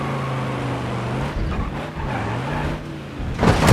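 A Burnside car in BeamNG.drive with poor grip and a wide turning radius, its engine droning and shifting pitch as it drives, with a tire squeal or skid swelling loudly near the end.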